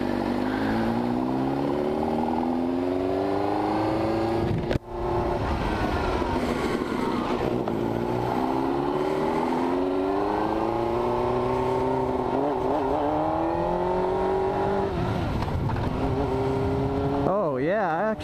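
A motorcycle converted to GP shift pattern ridden on the road, its engine droning loud and steady with rising and falling revs through gear changes and constant wind noise.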